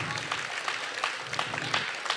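Steady applause from a school audience at a spoken word poetry event, with many hands clapping continuously at moderate loudness and a little crowd noise mixed in.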